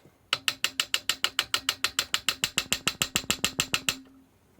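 A ratchet wrench clicks rapidly while loosening the side cover bolts on an e-bike hub motor with a noisy, failing clutch bearing, about twenty sharp, even, close-up clicks in a steady rhythm, alone and loud, then stops.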